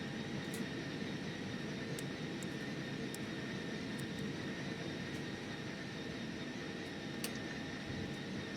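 A flight simulator reproduces the jet engines of a Eurowings Airbus A320 spooling for takeoff. The sound is a steady, fairly quiet whine over a broad hiss, with faint clicks now and then.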